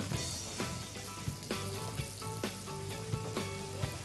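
Butter and oil sizzle hard in a pan with peppers and mint, a continuous crackling hiss with soft periodic stirring knocks and no talking.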